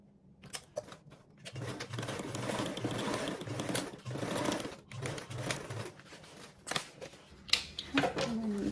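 Sewing machine stitching the top and two shorter edges of a pocket, a close, uneven run of rapid stitching with brief stops and small clicks.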